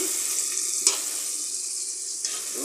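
Potatoes frying in a pan give a steady hissing sizzle, with one sharp clink near the start and a softer knock later, close and continuous.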